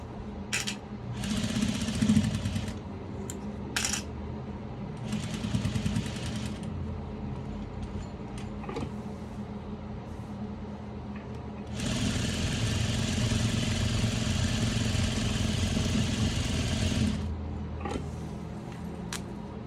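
A sewing machine stitches face masks in bursts, its close, rapid mechanical whirring starting and stopping several times, then running in one long steady stretch before pausing again.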